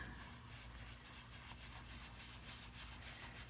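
A sponge dauber rubs finish into leather for a Western wallet, a soft, continuous scrubbing hiss with steady back-and-forth strokes, quiet and close.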